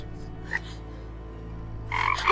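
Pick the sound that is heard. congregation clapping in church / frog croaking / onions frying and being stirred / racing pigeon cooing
frog croaking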